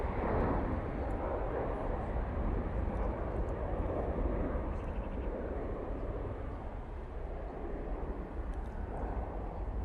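A Ryanair Boeing 737 MAX takes off from Manchester Airport, its engines a broad, steady roar that holds strong for the whole stretch, heard from a distance outdoors without speech.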